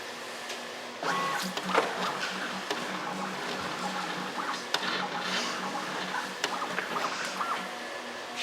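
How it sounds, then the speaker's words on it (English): A RideWrap Super Cutter vinyl plotter running a test cut: steady mechanical whirring and clicking starts about a second in and carries on, with sharper ticks scattered through the motor noise. "Put it back in the machine, hit the online button again, so it's back online, and then I'll hit test cut once more."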